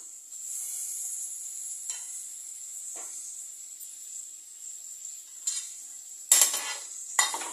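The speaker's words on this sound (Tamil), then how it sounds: "தக்காளி கொஞ்ச நேரம் வதங்கட்டும் தக்காளி வதங்கிட்டு இருக்குது" Tomatoes sauté in a pan with onion and ginger garlic paste for mutton kuzhambu, a faint steady sizzle broken by a few soft spoon strokes and then louder metal clinks near the end.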